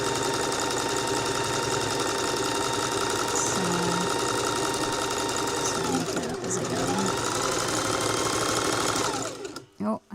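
A sewing machine runs in long, steady bursts as it stitches coiled rope into a bowl, humming and whirring close by. A person speaks in the background, and the run slows and stops near the end.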